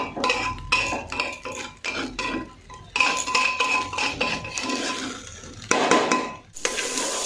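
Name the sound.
stirring marinated rice in a pan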